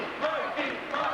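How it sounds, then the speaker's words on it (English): A wrestling crowd at a 1998 extreme-style match chants a wrestler's name in loud, rhythmic unison, filling the arena with massed voices. "Mikey getting a chant of his name there from the crowd"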